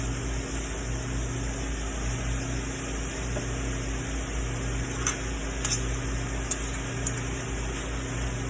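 Meat for a crockpot Zuppa Toscana browns in a pan with a steady, close sizzle and hiss, broken by a few faint scrapes or clinks near the end, with no talking.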